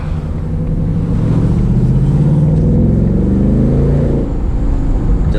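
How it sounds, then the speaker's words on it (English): A 2024 Mustang GT's exhaust drones at a steady low pitch, rising slightly mid-way as if under light throttle, with no voices. "You can hear the exhaust a little bit back there."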